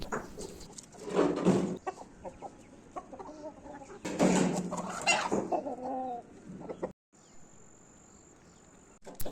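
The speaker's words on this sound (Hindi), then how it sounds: "यहाँ पर ये मुर्गे मुर्गियों को खाना दे रहे हैं।" Chickens cluck and squawk in busy bursts as they are fed in a village in Reasi, Jammu, India, with insects chirring steadily in the background outdoors.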